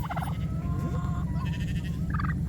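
Turkeys gobble in short bursts at a farmyard on a cold morning, alongside chickens, with a steady low background hum throughout.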